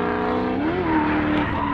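Cars drift around the track at Honda Musselman Circuit, with a loud, sustained engine drone and tire squeal rising and bending in pitch, heard close and continuous.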